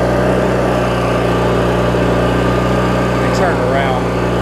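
A Craftsman mower's Briggs & Stratton opposed-twin engine runs at a steady, loud rev with a constant droning hum close by, and brief higher tones near the end.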